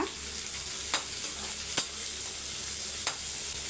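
Chopped shallots sauté in a pan for egg vegetable fried rice, a continuous soft sizzle punctuated by a few sharp stirring clicks, close and moderately quiet.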